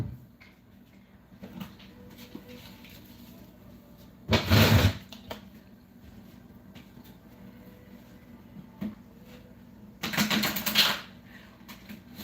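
Two short bursts of rapid, papery riffling, several seconds apart, standing out from a quiet room background.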